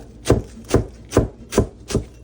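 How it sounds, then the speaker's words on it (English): A heavy stainless steel cleaver chops cabbage for sauerkraut in five evenly spaced, solid thuds on a cutting board, close and clear with no talking. "the great part about having a cleaver is that the weight on a cleaver is much heavier, which gives you easier chopping power"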